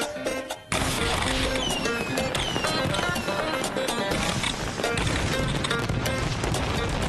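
A fireworks display goes off in a dense, continuous barrage of sharp cracks and rapid popping bursts, loud and close, following a short quieter lead-in.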